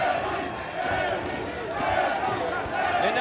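A fight-night arena crowd at a kickboxing event chanting the fighter's name Benny, a dense, continuous roar of voices with a rhythmic swell, heard from within the hall with commentary over it.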